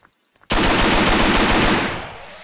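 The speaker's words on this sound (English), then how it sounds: "I just like the sound of the gun." MP40 submachine gun fired in a WW2 eastern front game mod: a sudden loud sustained automatic burst of rapid shots lasting about two seconds, then a short fading tail, with no talk.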